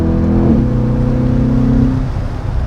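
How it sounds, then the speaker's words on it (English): A Chevrolet Corvette C8 convertible's mid-mounted V8 revs up briefly, its pitch rising and then holding as a steady rumble, loud and close with no talk. "this still has a classic American Chevrolet V8 in it, which doesn't sound like any of the engines you normally find in an exotic looking mid-engine like this"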